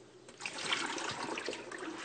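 Blue-tinged dyed water poured out of a container, a rushing, splashing gush building over a second or two, close by and fairly quiet.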